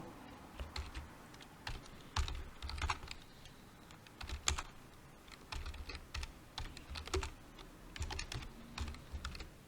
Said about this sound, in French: Il va être saisi au clavier